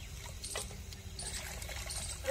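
Water trickles and splashes steadily as leafy greens are rinsed under running water, with a few soft clatters near the end.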